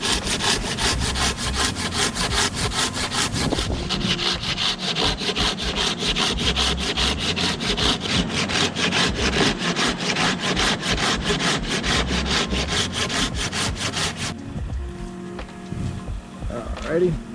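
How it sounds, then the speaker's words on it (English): A handsaw cuts through tree wood during removal of a tree beside power lines, with fast, steady back-and-forth rasping strokes close by that stop near the end, leaving quieter outdoor sound, and someone speaks over the sawing. "So I'm going to go ahead and cut this up with a handsaw."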